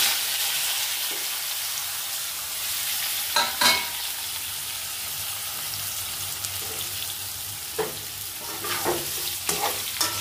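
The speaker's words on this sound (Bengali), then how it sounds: "এবার আমি ওল আর আলুগুলো এক এক করে দিয়ে দেবো।" Pieces of elephant foot yam and potato sizzle steadily in hot oil with cumin. A soft, continuous frying hiss is broken by a few sharp clatters of stirring and handling.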